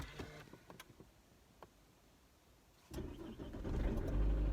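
A car engine cranks and catches near the three-second mark after a few clicks and door sounds, then settles into a steady, close idle rumble that grows slightly louder.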